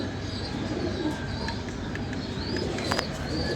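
Pigeons coo in a loft, low rolling calls repeating over a dense, constant background murmur of the flock, with occasional sharper chirps.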